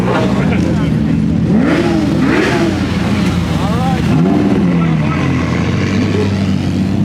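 Several cars, including supercars, rev and roar past one after another at the Drive Fest car festival, engines rising and falling in pitch, loud and close with crowd noise throughout.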